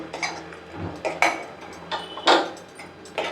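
A metal spoon scraping sweet prasadam out of a pan into a bowl, five or six distinct clinking, scraping strokes spaced about a second apart, close and clear with no talking.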